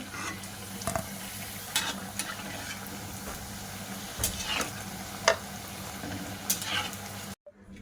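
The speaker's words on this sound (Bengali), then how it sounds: "মিষ্টিগুলো ভাজা করা হয়ে গেছে, এবার আমি তুলে নেব।" Steady crackling of langcha sweets, made with Gobindobhog rice, frying in oil until red, with a few louder clinks and scrapes rising above the bubbling hiss.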